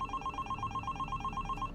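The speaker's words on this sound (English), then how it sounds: "disturbing phone call." A telephone ringing in a fast, even electronic trill, steady pulses repeating for nearly two seconds at moderate loudness, alone without voices.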